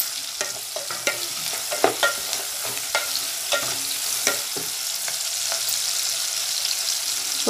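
Onions sautéing in a pan with curry leaves for Tamil-style okra soup, a soft steady sizzle with scattered stirring clicks and scrapes of the spoon, close and moderately loud, no talking.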